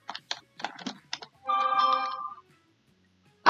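A phone goes off with a short burst of tapping clicks followed by a sustained electronic ringtone tone lasting about a second, then quiet.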